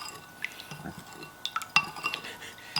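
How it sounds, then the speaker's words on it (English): A utensil clinks and scrapes lightly in a bowl as a sauce with starch and sugar is mixed, soft close taps and wet stirring sounds in an otherwise quiet kitchen. "give it all a good mix. Yeah, really make sure you mix up the starch and the sugar"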